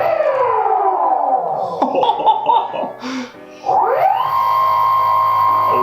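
An electric skateboard, an Enertion Raptor 2.1, powers on: a sci-fi whirring tone sweeps downward, followed by clicks and a short burst, then rises again into a steady electronic hum, like a spaceship powering up.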